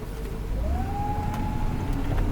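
A 1956 Cadillac fitted with front disc brakes rolls to a stop during a brake test. A steady low drivetrain rumble runs under a thin rising squeal that holds briefly, with no voices.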